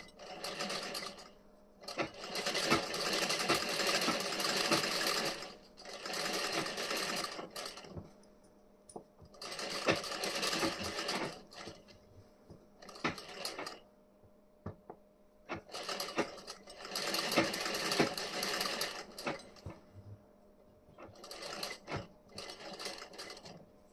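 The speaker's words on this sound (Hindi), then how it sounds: "अब इस पे हम स्टिचिंग करेंगे।" Sewing machine stitching the front panel of a blouse, running in several long bursts of rapid needle chatter separated by short pauses, loud and close with no talking.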